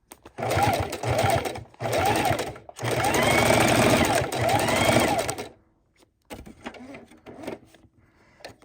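A sewing machine running a single stitch over raw-edge appliqué fabric, loud and close, in several sustained bursts of rapid mechanical whirring separated by brief pauses, then fainter handling clatter at the end.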